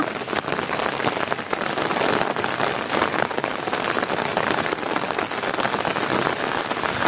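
Heavy early-morning rain in Palani pours steadily, a dense, loud, continuous hiss of drops hitting surfaces with no pauses and no voices.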